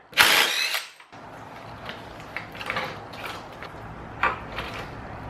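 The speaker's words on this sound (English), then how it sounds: "let's change the front sprocket out" Tools working on a motorcycle's front sprocket during a swap from 16 to 15 teeth, giving a loud close metallic clatter at the start and then lighter scattered clicks and ratcheting.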